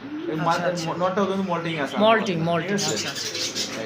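Several pigeons coo in soft, rolling, repeated calls close by in a pigeon collection. Low talk mixes in with the cooing.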